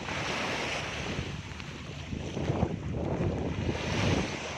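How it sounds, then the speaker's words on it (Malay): Ocean surf at Tanjung Uma beach in Batam, a steady broad wash of waves mixed with gusty wind noise on the microphone, constant and fairly loud with no talking. "Pantai Tanjung Inilah pantai kami."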